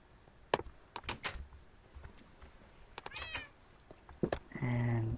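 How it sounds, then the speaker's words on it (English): A cat in the Minecraft video game gives one short, clear meow in the middle of a quiet stretch, surrounded by scattered clicks and taps and followed by a steady humming tone near the end. "This cat is somewhere in this house."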